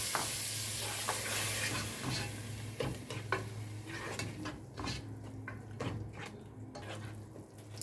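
Minced garlic and grated tomatoes sizzle in a pan as a spoon stirs them, with a steady frying hiss under scattered scraping clinks of the utensil against the pan.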